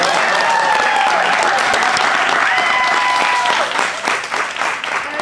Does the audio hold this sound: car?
no